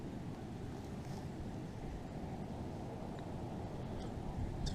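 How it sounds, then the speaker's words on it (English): Strong wind roars during the 2016 blizzard in southern New Jersey, a dense, steady rumble of buffeting gusts that hits the microphone without pause and swells slightly toward the end. "It's very windy."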